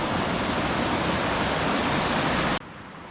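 Cascades on a remote river rush in a dense, broadband roar of falling water, loud and steady, cutting off abruptly near the end to a quieter background.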